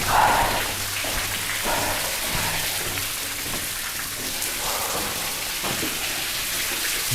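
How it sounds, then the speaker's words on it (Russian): An underground waterfall inside a tunnel, a steady broadband rush of falling water echoing continuously, with a few splashy bursts and no voices. "И получается, в той трубе водопад, здесь водопад."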